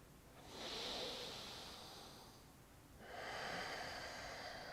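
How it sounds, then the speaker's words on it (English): Slow, deep breaths taken during a yoga shoulder stretch. A long hissing inhale is followed by a pause and then another audible breath, soft and close, with no other sound. "We're going to do 3 breaths here."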